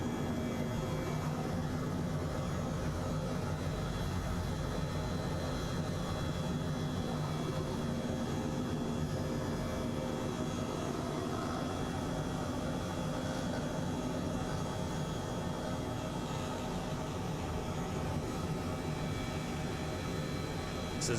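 Steady aircraft engine drone during a bush flight in Microsoft Flight Simulator, a continuous broadband roar holding evenly at a constant loud level throughout, with no talk over it.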